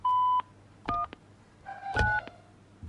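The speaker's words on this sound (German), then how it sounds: "Bitte bestätigen Sie nach dem Signalton die Annahme des Gesprächs durch Drücken der Tasten 1 und 9." Telephone keypad DTMF tones: three separate beeping key presses on a phone line, including keys 1 and 9, each short and clear with brief gaps between them, set against a quiet background hum.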